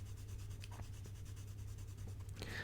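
Graphite pencil, a 7B Staedtler Mars Lumograph, scratching steadily across paper in close, quiet strokes, with a faint low hum underneath and a brief brighter scrape near the end.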